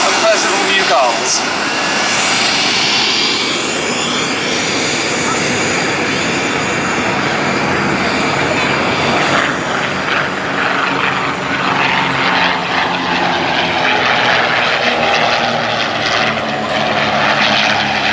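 A de Havilland DH88 Comet leads a pair of Percival aircraft past at an air festival, their propeller engines droning loudly and steadily, swelling as they pass.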